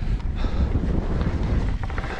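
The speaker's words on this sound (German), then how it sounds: "Da geht ein bisschen ein Wind auf den Grat." Gusty wind buffets the microphone on an autumn mountain ridge during a mountain bike ride, a loud, fluctuating low roar with no talking.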